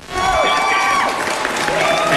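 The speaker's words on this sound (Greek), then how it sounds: "Πάρε το χειροκρότημά σου" An audience claps and cheers steadily after a Greek love song on a television entertainment show, with dense continuous applause and some crowd noise.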